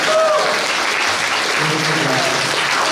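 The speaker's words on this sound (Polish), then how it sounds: "Wielkie brawa dla pani!" A hall audience at a Women's Day celebration in Zadąbrowie gives loud, sustained applause, a dense, even wash of clapping lasting throughout.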